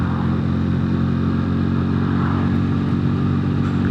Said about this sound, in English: you pull away, you get a nice note from the exhaust, but it's not fast